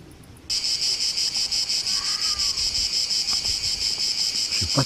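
Cicadas buzz outdoors at night at a cycling-trip campsite, a loud, steady, pulsing drone that starts abruptly after a brief quiet moment and continues unbroken.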